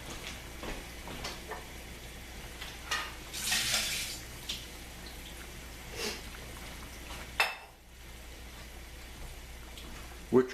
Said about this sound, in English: We're going to saute this quickly along with the pieces of orange peel